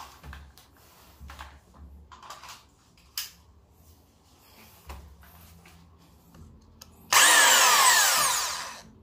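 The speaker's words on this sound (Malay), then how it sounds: "Fungsi pusing sekali dengan hentak. Hammer drill lebih kurang." Hammer drill switched on near the end, a loud, steady broadband whir with rapid hammering, preceded by quiet handling clicks and taps from someone preparing the tool to bore holes for hanging things.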